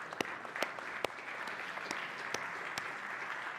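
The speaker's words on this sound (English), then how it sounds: "Give yourself a round of applause." An audience at a men's summit gives itself a steady round of applause, a continuous patter of many hands at moderate distance with a few sharper individual claps standing out.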